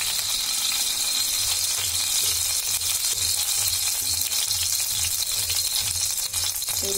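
Oil sizzling in a kadai while making pizza sauce, a continuous loud hissing fry with soft stirring undertones, close and steady.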